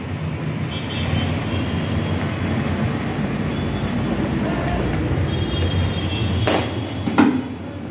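A metro train runs past a high-rise apartment balcony as a steady, loud broadband rumble that fills the whole stretch, swelling slightly near the end.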